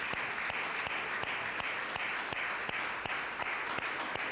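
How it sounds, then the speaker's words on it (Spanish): A church congregation applauds steadily, dense clapping filling the space at a constant, fairly loud level with a few sharper individual claps standing out, and no voices above it. "Denle un aplauso a Él si lo quiere dar"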